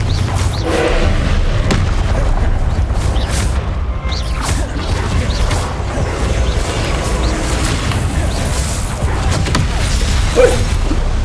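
Confringo fire spell blasts in Hogwarts Legacy combat: dense, continuous booming thuds and whooshes, loud and close throughout, with scattered impacts over a heavy low rumble.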